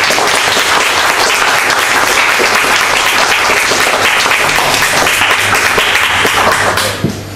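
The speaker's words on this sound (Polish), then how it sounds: "Szczególnie chciał prosić o brawa dla naszych gości" Audience at a philosophy club meeting in Łódź applauds the invited guests, sustained dense clapping from a crowded room that tapers off at the end.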